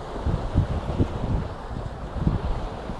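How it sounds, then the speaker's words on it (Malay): Strong wind buffets the microphone beside choppy Towada Lake in Japan, a steady loud rumble with gusty surges and the wash of waves underneath, no voices. "kuat angin sekarang"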